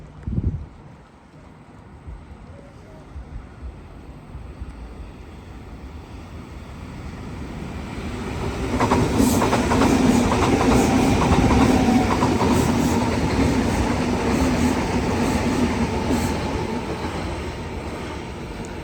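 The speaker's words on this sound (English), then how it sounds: "This train arriving on platform 1 now" A Sydney Trains train rumbles in at a station platform and grows louder, wheels clacking and brakes hissing as it pulls alongside at close range, with no talking.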